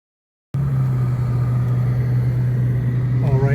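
A Jaguar XJ-S on the move gives a steady, loud engine hum with a strong low drone, starting abruptly after a brief silence and holding constant, with a faint rising whine near the end.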